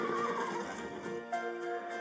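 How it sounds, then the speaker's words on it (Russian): A band of horses with foals, one whinnying in a short, quavering neigh that carries on faintly, at moderate distance, with no talk. "Band of horses."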